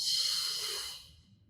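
A single long exhale during a floor-based workout exercise, a soft breathy rush that is fairly close and fades out over about a second and a half with no talk over it.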